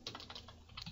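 Quick, light keystrokes on a computer keyboard typing a search query, a fast run of close, soft clicks for about a second.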